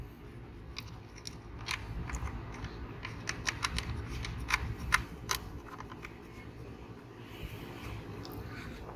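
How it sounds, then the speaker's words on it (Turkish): Small clicks and ticks come from a screw being fitted by hand onto a car's MAF sensor, a scattered run of faint, close metallic taps with no talk. "Diğer vidayı da takıyorum."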